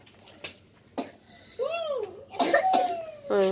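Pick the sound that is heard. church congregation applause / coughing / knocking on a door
coughing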